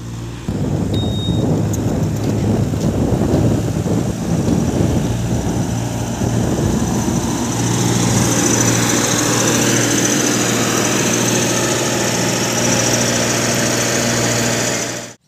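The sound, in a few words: Massey Ferguson 1035 tractor engine pulling trolley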